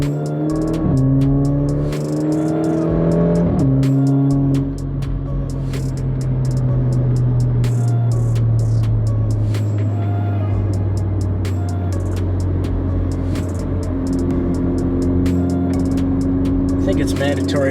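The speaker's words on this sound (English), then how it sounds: "I think it's mandatory when you drive a Giulia, you have to pull out like that" An Alfa Romeo Giulia Ti Sport pulls away and drives on a scenic road, its engine note rising and shifting through gears with steady road and cabin rumble throughout, with people talking over it.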